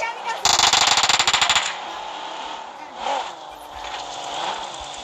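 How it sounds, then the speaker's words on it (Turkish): Rapid bursts of automatic gunfire from the mobile battle-royale game PUBG Mobile, a loud stuttering volley of about a dozen shots lasting just over a second, followed by softer game sounds and scattered voices. "birileri sıkıyor"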